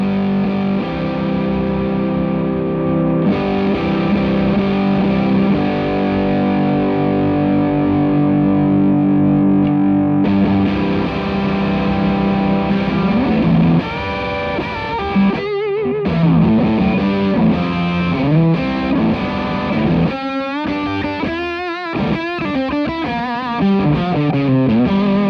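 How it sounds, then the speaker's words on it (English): A Stratocaster electric guitar runs through a fuzz pedal, giving a loud, thick, buzzy distorted tone with sustained chords at first and then choppier riffs and bends, played alone with no talking. "It's noisy just like a fuzz should be."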